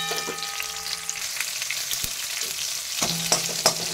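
Tomatoes fry in hot oil, a close crackling sizzle broken by a few quick stirring scrapes and clicks over four seconds.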